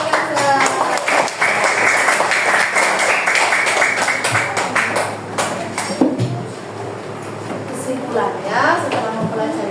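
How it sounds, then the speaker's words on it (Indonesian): Classmates in a school classroom clap together for a student, a dense burst of applause that gradually thins, with a voice speaking over the later part. "Beri tepuk tangan untuk Mbak Kaza"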